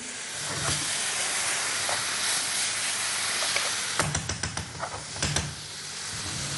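Smoked fish and shellfish stock poured into a hot pan to deglaze it, a loud, steady sizzling hiss with sharper spattering crackles that flare up toward the end, with no voice.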